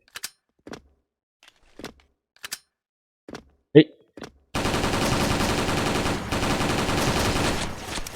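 Sharp game gunfire from a G36C rifle: scattered single shots and short bursts, then a dense continuous burst of automatic fire, loud and close, with players talking in between.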